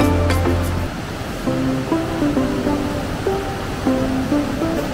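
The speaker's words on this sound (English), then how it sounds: "The boardwalk parallels the Niagara River, which is flowing at a rate of 45 kilometers per hour, creating large whirlpool rapids as the river passes through the narrow gorge." The Niagara River's whirlpool rapids rush through a narrow gorge in a loud, steady roar of churning water, with tonal music playing over it.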